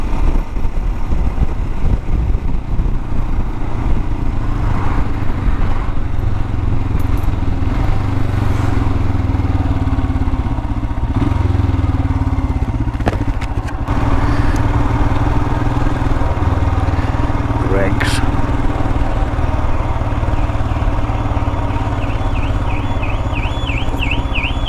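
A motorcycle engine running continuously and close in a seaside parking area, a steady loud drone that holds for the whole stretch with slight shifts in pitch and occasional brief clicks.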